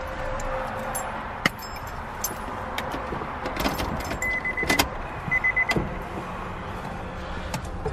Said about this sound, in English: So I'm gonna put the key in the ignition.